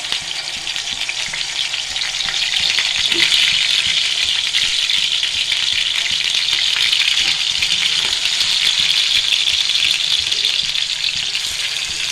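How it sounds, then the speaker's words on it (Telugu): Pieces of fish for a fish masala curry sizzle loudly in well-heated oil in a pan. The frying hiss is dense and continuous throughout, close up, with faint crackles and no speech. "ఇప్పుడు దీనిలో ఒక్కొక్క ముక్కలా పెడదాము."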